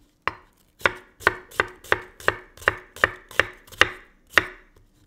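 A knife chops through a small onion on a cutting board, about ten sharp, evenly spaced strikes, close and crisp with no talking.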